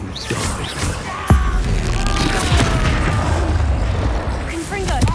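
An Expulso blasting spell explodes in Hogwarts Legacy with a sudden heavy boom, set among a continuous roar of combat effects and magical whooshes.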